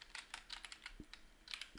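Rapid keystrokes on a computer keyboard while a FiveM FX server is set up, an uneven run of light clicks with a couple of heavier thuds, close and fairly quiet.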